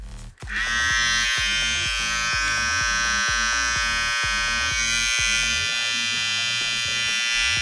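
A Philips QT4050 beard trimmer with a built-in vacuum system switches on and runs steadily, a loud, close, high-pitched motor whine holding constant after a short start-up.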